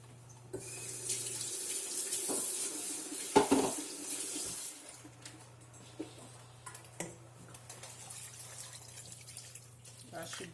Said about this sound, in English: So I'll put in a little bit of water.